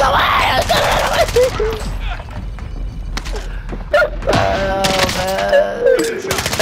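A video-game firefight with someone firing from a rooftop: rapid bursts of gunshots and thumping impacts, loud and close, while a player shouts over them.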